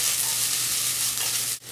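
Vegetables with garlic hitting a hot stir-fry pan, giving a steady, loud broadband sizzle that holds for the whole stretch and drops out briefly near the end.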